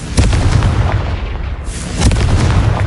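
A Confringo blasting spell explodes in Hogwarts Legacy, a loud, close, rumbling burst that swells twice across the moment with heavy low-end booms and no talking.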